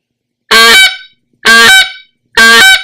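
Three loud, raspy honks from an Eastern Shoreman World Champion goose call blown in a steady rhythm, each about half a second long with a rough, buzzy edge, with short silences between.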